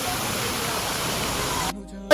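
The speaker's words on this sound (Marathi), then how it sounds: "इथे छोटा धबधबा आहे." A small waterfall in Grand Central Park, Thane, gives off a steady, even rush of falling water for most of the stretch before it drops away abruptly near the end.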